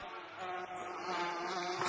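Bees buzz in a VR video game, a close, continuous droning hum that swells slightly, heard alone without talk.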